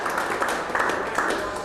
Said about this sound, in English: Big round of applause for Fred Knuthia with Austin Taylor